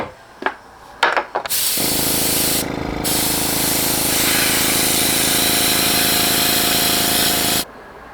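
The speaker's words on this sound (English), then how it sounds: "I'm going to spray like a reddish orange on the belly as a base" An airbrush sprays reddish orange paint onto the belly of a tilapia swimbait lure, a steady close hiss that lasts several seconds after a few short clicks and bursts.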